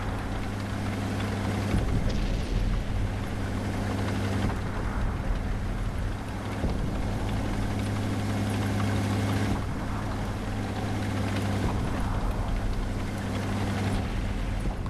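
A damaged tank destroyer engine labours in World of Tanks, a steady low droning rumble with a constant hum running throughout, loud and unbroken with no talk over it.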